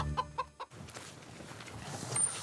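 A few quick clucks from a chicken open the clip, followed by a steady wash of background noise with no further distinct calls.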